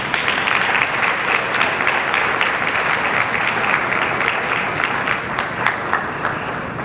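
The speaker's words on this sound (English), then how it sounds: "Yes, let's clap" Sustained applause from a large audience at a cotillion, steady clapping filling the room for several seconds with no speech over it.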